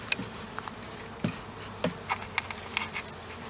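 Honey bees buzz softly nearby, with scattered brief flybys and light clicks over a quiet background.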